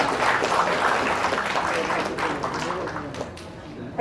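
Applause from the audience at a state commission's foundation day ceremony, a moderate, continuous clatter of many hands that lasts about four seconds, with a voice briefly audible beneath it.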